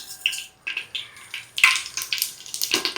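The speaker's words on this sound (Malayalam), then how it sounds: "എണ്ണ നന്നായിട്ട് ചൂടായി വരുമ്പോഴേക്കും നമുക്ക് കടുക് ചേർത്ത് കൊടുക്കാം." Mustard seeds crackle and sizzle in hot oil, tempering for Karnataka-style bisi bele bath, heard as bursts of bright popping with short quieter gaps, close and fairly loud.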